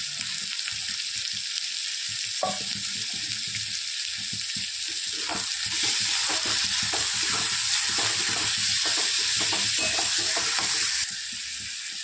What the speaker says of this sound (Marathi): आता टाकतो टमाटा अद्रक लसूण